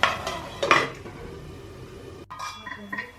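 Metal lid clinks down onto a pan of spicy chilli Maggi noodles in a home kitchen, with a couple of sharp clatters followed by light rattling and faint handling.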